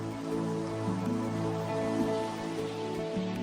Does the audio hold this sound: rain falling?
yes